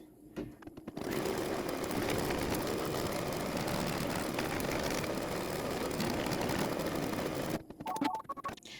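An embroidery machine runs a tack-down stitch over batting, a fast steady mechanical whir sustained for several seconds, then stopping with a few beeps.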